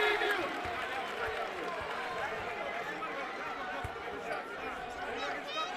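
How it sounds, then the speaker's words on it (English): Arena crowd at an NMSU vs Kennesaw State men's college basketball game: a steady murmur of many voices fills the space, with a few faint thumps and squeaks throughout. "the crowd is still buzzing after that the artificial jump ball call"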